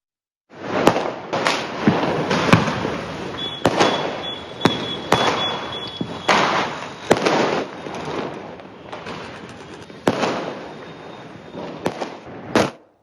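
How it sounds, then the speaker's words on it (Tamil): Diwali fireworks bursting over Ahmedabad, Gujarat, a dense barrage of loud cracks and booms with sharp firecracker pops, continuous and close, with no voices heard. "குஜராத் மாநிலம் அகமதாபாத்தில் வான வேடிக்கைகளால் பல வண்ண நிறங்களில் வானம் ஜொலித்தது"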